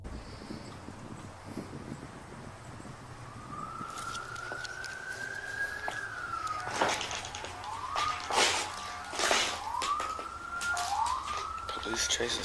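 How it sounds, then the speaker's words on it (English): A police siren wails far off, rising and falling in long sweeps over wind and low outdoor noise. "the sound of police sirens echoes in the distance"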